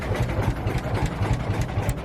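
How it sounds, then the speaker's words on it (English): Caramel-colored car with an aftermarket exhaust at a car show, engine running with a deep, throbbing low rumble and rapid pulsing exhaust beats, steady and close. "Give it a rev, huh?"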